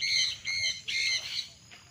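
Farm birds squawk and chirp in three loud bursts close by, harsh and repeated, with a softer call trailing off at the end.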